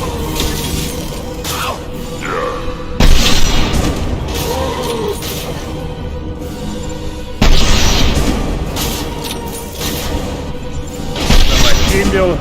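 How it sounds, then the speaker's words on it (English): Heavy high-impact shots in a video game, three loud booming blasts spaced several seconds apart, each with a shattering crack and rumbling tail, over continuous game noise with a voice talking. "Firing a high-impact shot."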